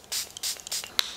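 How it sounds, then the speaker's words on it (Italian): Thermal-water setting spray misted from a pump bottle during a makeup application: three or four short, sharp hissing bursts in quick succession, close and fairly loud, with no talking. "e lo spruzzo con uno spray fissante, un'acqua termale."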